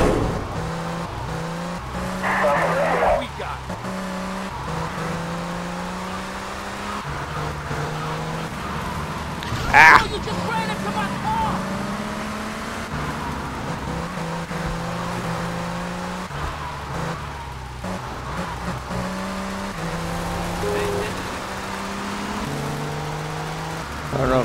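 Race car engine revving and shifting gears through a GTA Vice City street race, with repeated rising engine tones, a sharp screech near the middle and steady loud driving throughout; faint voice talks briefly.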